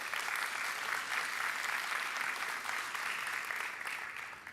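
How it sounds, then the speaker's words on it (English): Steady audience applause at a university startup accelerator showcase, a sustained even roar of many hands clapping that tapers slightly at the end, with no voices. "So can we have a round of applause for Jamie Hutchin"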